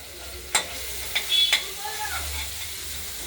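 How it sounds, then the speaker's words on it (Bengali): Potatoes sizzle gently in a pan as they fry for a cabbage curry, and a few sharp scrapes and taps from a stirring utensil come through. Quiet and close, with no speech. "আলুটা আমরা ভাজবো হালকা হলুদ করে"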